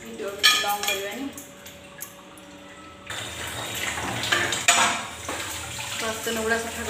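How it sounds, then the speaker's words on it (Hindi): Dishes and utensils being washed by hand, with clinking steel cutlery and pots clattering near the mic alongside running tap water, in repeated irregular knocks and scrapes. "बर्तन गुड़ा सफा करती"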